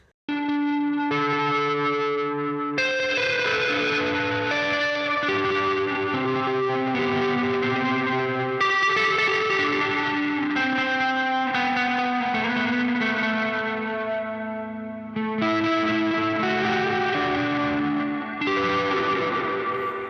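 Sustained electric guitar chords washed in reverb and echo from Meris Mercury X and LVX pedals combined, notes ringing and overlapping as they change every few seconds, with no voices.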